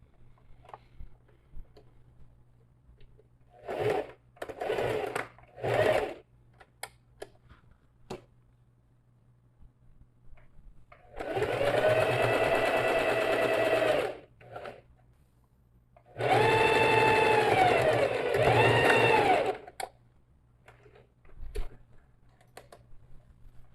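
Sewing machine running in two sustained bursts of steady whirring as it stitches a safety seam on a fabric panel for a toiletry bag, with shorter start-stop runs and light clicks between them.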